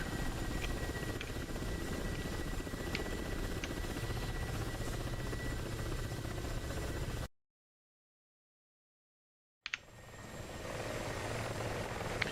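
A Mi-24 helicopter in a video game gives a steady, faint rotor and engine drone with a slight buzz. It cuts to silence for about two seconds, then the drone resumes.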